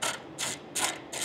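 Quick ratchet wrench backing screws out of the brake fan cover on an Airbus A320 wheel, four short clicking bursts in a steady rhythm, close and clear with no talk.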